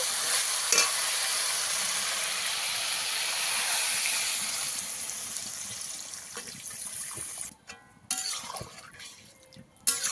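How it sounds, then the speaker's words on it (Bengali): Water poured into sizzling sautéed masala for a fish curry, a loud rushing hiss and bubbling that gradually fades, then settles into quieter sputters and a few sharp clinks near the end. "ভালো করে আমার মশলা কষানো হয়ে গেছে, এবার জল দিয়ে দেবো।"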